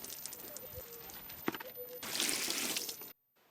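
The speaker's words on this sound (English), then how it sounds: "just wash it off with some car soap and rinse it with water" Water runs steadily over a white Jeep Wrangler as it is rinsed after washing with car soap. A soft hiss swells louder toward the end and then cuts off abruptly.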